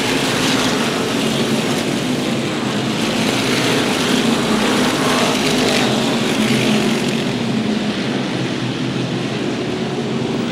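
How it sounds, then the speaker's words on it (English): SK Modified race cars roaring around Waterford Speedbowl at well over 100 miles an hour, a dense, steady engine drone that fills the whole stretch without breaks or voices. "We're starting to ride around at modified speeds, well over 100 miles an hour at the bowl."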